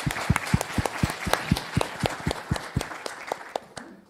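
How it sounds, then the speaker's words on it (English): Audience clapping in Sibley Auditorium at UC Berkeley during an awards event, a thin, scattered round of applause with distinct individual claps, close and fairly loud, tapering off toward the end. "So clap your hands for everyone here."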